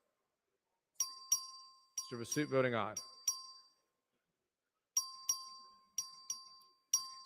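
A clear electronic bell chimes repeatedly for a record vote in the Texas House chamber, bright struck tones in two separated clusters with a pause between, while a clerk's voice briefly reads a member's vote.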